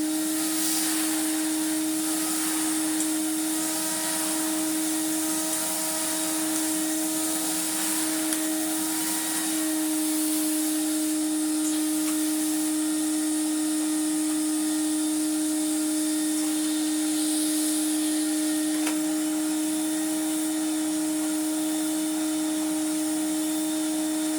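A Numatic vacuum cleaner runs continuously with a steady, even motor drone and a strong tonal hum. It stays close and unchanging for the whole stretch, with no talking over it.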